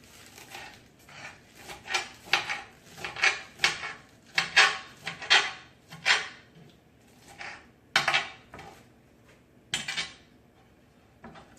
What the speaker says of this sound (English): So just chop it up.